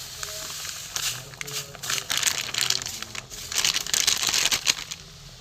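A packet of semolina crinkles and rustles in bursts as it is torn open and poured into boiling water, close and fairly loud, with brief pauses between handling sounds.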